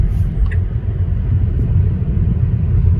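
Low, steady rumble of a Tesla Model 3 Highland rolling over a gravel road, a dense continuous road-and-tyre roar heard from inside the car, with no voices.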